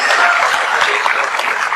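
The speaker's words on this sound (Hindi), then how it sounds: "कृपया एक बार आप लोगों की एक साथ जोरदार ताली होनी चाहिए सर।" An audience gives a loud, sustained round of applause at a Hindi motivational talk, dense clapping filling the space evenly throughout.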